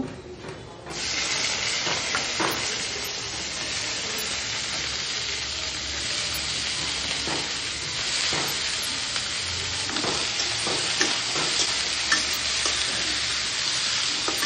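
Chopped ridge gourd hits a hot oiled pan and fries with a loud, continuous, close-up sizzle, punctuated by occasional scraping stirs of a utensil.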